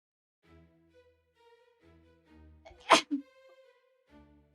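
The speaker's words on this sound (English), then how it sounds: "Oh, sorry, I'm sneezing." A single sharp sneeze bursts out close by, with a smaller follow-up sound, over soft background music.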